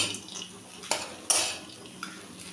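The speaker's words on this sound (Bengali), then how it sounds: "একটু মিশিয়ে ভেজে নেব" Grated boiled potato and fried peanuts are stirred and fried in a pan, with a few sharp spatula scrapes and clinks against the metal over a quiet, faint sizzle.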